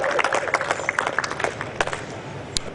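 Audience applause for a guest at a Martyrs' Day ceremony held by a community service society: scattered, uneven clapping from a modest crowd, moderately close, thinning out toward the end.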